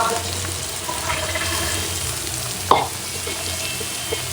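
Liver and chopped onions fry in oil, a soft continuous sizzle with faint stirring, broken by one brief sharp clatter near the middle.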